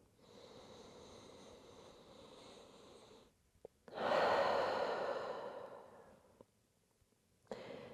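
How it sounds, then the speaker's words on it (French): Deep, slow breaths during a yoga relaxation on a mat, close and soft, with a long audible exhale swelling in the middle and quieter breathing around it. "On prend juste une grande respiration ici, relâchez tout."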